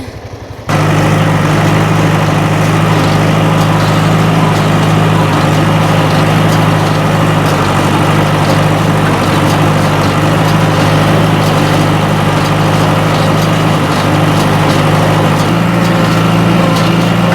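A tractor engine drives a hay baler at a fixed, unchanging speed, a loud, steady low drone with a constant mechanical hum that runs alone for the whole stretch after a brief quieter start.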